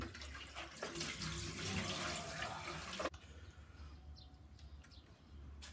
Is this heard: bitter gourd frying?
no